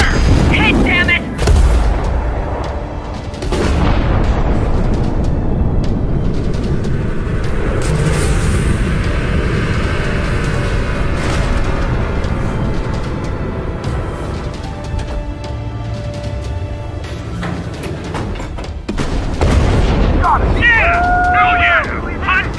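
Weapon fire and explosions in the Ace Combat 7 video game: loud booms and rumbling blasts run through the whole stretch, with a sharp burst near the end, partly under excited talk.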